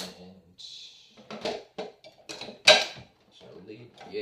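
A spoon stirs food in a dish in a home kitchen, with scraping and several sharp clinks, then a lid clatters loudly once, amid quiet rustling.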